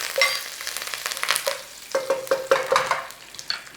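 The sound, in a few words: mustard seeds and curry leaves sizzling in oil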